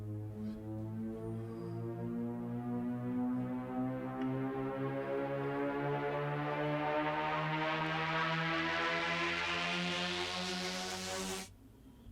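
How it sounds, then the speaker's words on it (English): Shepard tone build-up synth effect made in Vital: a loud, sustained stack of harmonic tones that seems to climb continuously in pitch and grow brighter for about eleven seconds, then cuts off abruptly. "through the Shepard Tone we get our pitch up effect"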